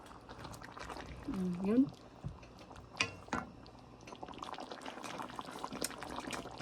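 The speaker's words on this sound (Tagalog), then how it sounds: "Lagay natin yung sauce sa taas" Sauce being poured over cooked tilapia, a short wet pour and splash near and moderately loud, followed by light clinks and kitchen sounds while a voice speaks briefly.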